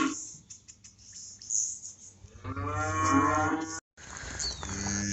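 A cow lets out a long, loud moo close by, following scattered clicks and rustles, with a brief cut near the end.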